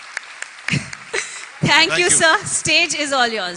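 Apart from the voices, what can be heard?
audience applause at a conference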